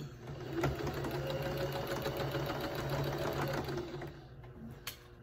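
A sewing machine stitching quarter-inch seams on lined-up quilting fabric, running in a steady close mechanical whir with rapid needle clatter for about four seconds, then slowing and stopping.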